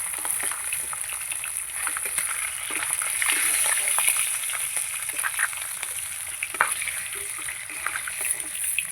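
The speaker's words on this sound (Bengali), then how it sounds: "এগুলো আমি ভেজে নেব।" Pieces of katla fish fry in oil with a continuous moderate sizzle and crackle, dotted with small pops and spatters throughout.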